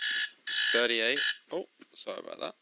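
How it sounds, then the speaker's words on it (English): The game-start alarm in the Hell Let Loose video game blares in loud, harsh, siren-like blasts with a wavering tone, interrupted by someone speaking briefly. "That is the alarm for the game start."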